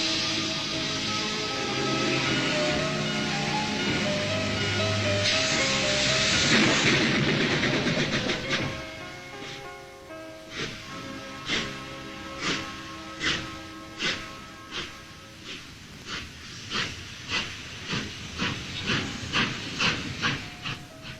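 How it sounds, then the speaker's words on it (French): A steam locomotive hauling a freight train hisses loudly as it pulls into Ecaussinnes-Carrières station, Belgium, in 1955, then wagons clack over rail joints in a steady, slowing rhythm of repeated knocks. "certains trains de marchandises font arrêt en gare pour déposer des wagons et en prendre d'autres"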